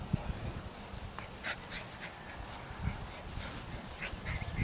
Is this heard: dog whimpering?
yes